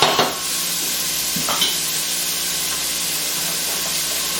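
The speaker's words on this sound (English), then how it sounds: "it needs to cook for about 5 minutes for the vegetables to be translucent." Vegetables for a meat lasagna cooking down in a pan, a steady close sizzle and hiss with a couple of brief stirring scrapes near the start, no voices.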